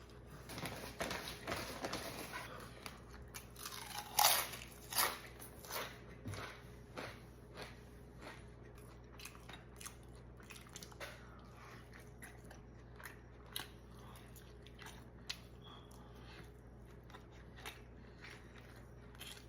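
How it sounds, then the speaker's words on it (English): Someone eats a homemade bread chicken sandwich, with soft, irregular chewing and biting crunches close up in a quiet room, a sharper bite standing out early on. "chicken sandwich."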